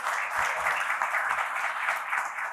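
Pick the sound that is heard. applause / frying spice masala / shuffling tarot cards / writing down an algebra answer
applause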